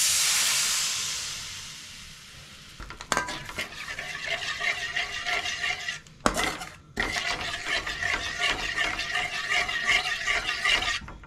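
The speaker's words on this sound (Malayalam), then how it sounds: "ഒന്ന് ചൂടായി വരുമ്പോൾ നമുക്ക് ഇതിലേക്ക് പാല് ചേർക്കാം." Half a cup of milk goes into a hot pan for butter garlic bread with egg, a hiss followed by steady scraping and clinking of a utensil in the pan, briefly interrupted.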